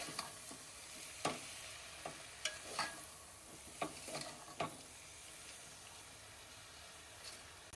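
Pav bhaji masala and Kashmiri red chilli powder being stirred into a frying pav bhaji base: a soft steady sizzle with several sharp spoon scrapes and knocks against the pan, spaced irregularly, close and fairly quiet, no voices.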